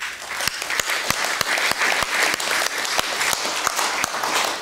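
An audience applauds at the close of a reading on renewable energy, a steady wash of many hands clapping with sharper individual claps standing out, fairly close and continuous throughout with no voices over it.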